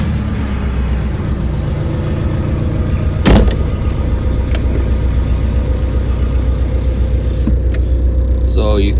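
A VW/Audi car engine cranks and catches with a sharp burst, then settles into a steady, close, humming idle.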